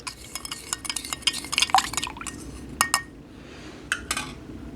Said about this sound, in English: Give that one more stir.